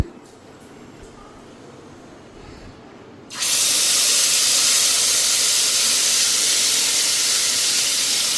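Hot oil hisses loudly in a pan as ingredients go in, a sudden bright sizzle bursting on after a quiet start and holding steady and close; no talking.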